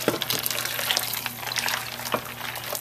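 Water pours from a tap into a large cooking pot, a continuous splashing gush with a low resonant ring from the filling vessel, close and fairly loud, no talk over it.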